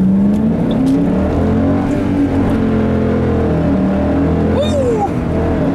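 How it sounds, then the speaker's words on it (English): A 2007 Ford Mustang GT with a manual transmission revs and accelerates steadily, its pitch rising and holding, loud and close, with a brief tire chirp near the end. "Why not one more acceleration run?"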